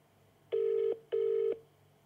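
Two steady touch-tone telephone dialing beeps, each about half a second long, sounding clearly over quiet background hum with a short gap between them.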